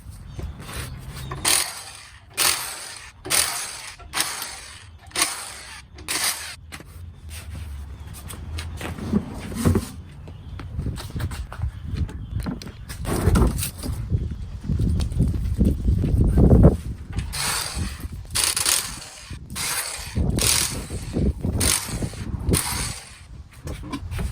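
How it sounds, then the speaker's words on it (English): Rear wheels come off a lifted 4th gen Toyota 4Runner, with a run of evenly spaced clanks and ratcheting at first, then looser metallic rattles, knocks and handling noises, fairly close with no talking. "now the next step is to get these tires off"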